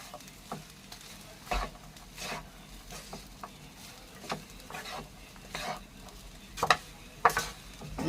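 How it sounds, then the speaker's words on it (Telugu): Spoon stirring salt into raw mango rice in a pot, a series of soft scraping and clinking strokes at irregular intervals, close and fairly quiet, with no talk. "నేను సాల్ట్ అయితే వేస్తున్నానండి వేసిన తర్వాత ఒకసారి మనం కలిపేసుకుందాం"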